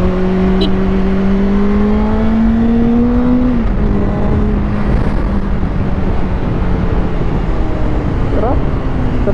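A QJ Motors SRK 600RC inline-four motorcycle engine revs continuously, rising in pitch then dropping as gears are shifted quickly without a quickshifter or auto blip, with steady wind rush throughout.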